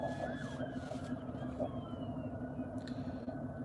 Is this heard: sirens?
yes